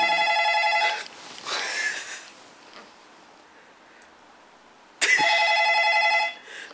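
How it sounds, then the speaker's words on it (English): A telephone bell rings in two loud bursts about a second long each, with a quiet room and faint movement between them. "Answer the phone."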